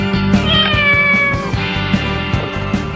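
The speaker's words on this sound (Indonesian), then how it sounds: "Oke, ada kucing lagi." A cat meows repeatedly, drawn-out and whiny, over a steady background of music with a rhythmic beat.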